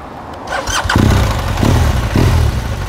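A BMW R1200 motorcycle engine cranks and catches, then settles into a loud, rumbling idle with a couple of surges close by.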